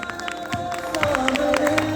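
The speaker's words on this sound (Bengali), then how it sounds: "এবার তালিয়া হয়ে যাক, খুব জোরে" An audience claps and cheers after a card magic trick, a brief burst of mixed applause and crowd noise rising in loudness toward the end.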